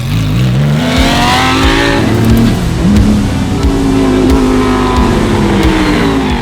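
A race car engine, a Lamborghini GT3 or Porsche Cup car, roars and climbs in pitch as it accelerates on track, loud and close, with a steady rising whine and no voices.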